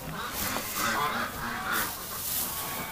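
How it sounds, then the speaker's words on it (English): Geese honk inside a goose shed, several overlapping nasal calls rising and falling close by against a noisy, busy background. "Okay, the geese."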